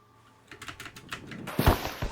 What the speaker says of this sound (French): Désolé pour le bruit du clavier, j'ai spammé espace.